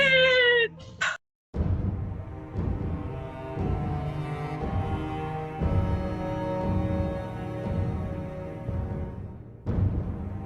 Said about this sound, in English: Listen to the cat, David.